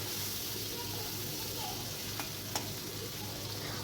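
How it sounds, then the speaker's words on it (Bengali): Prawns fry in a pan in a village kitchen, giving a steady close sizzle with a couple of faint clicks of stirring, with no talk over it. "এখানে চিংড়ি মাছটা ভাজতে দিয়েছি।"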